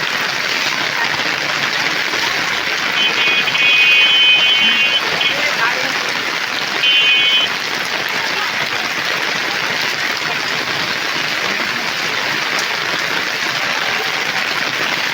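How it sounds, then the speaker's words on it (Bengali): Heavy rain pours steadily and loudly onto waterlogged ground and an umbrella, a dense continuous hiss throughout. "প্রচুর বৃষ্টি হয়েছে আজকে"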